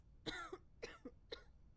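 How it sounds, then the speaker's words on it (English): A sick patient in the video game Quarantine Zone coughs three times in quick succession, each harsh, wet bark trailing into a short rasp, close but quiet. "if they get a cough"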